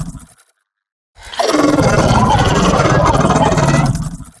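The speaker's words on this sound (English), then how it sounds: "Let's listen to the roar without the breaths and then with it." Designed creature roar layered with recorded dog breaths, a single sustained, loud, rough roar lasting about two and a half seconds after a brief breathy exhale and a moment of silence.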